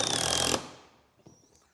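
A power drill drives a screw into timber while building a milk crate. It gives one short, loud whirring burst of about half a second that stops abruptly, followed by faint taps and near silence.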